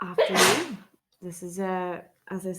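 A single loud sneeze bursts out near the start, then someone speaks in a calm voice.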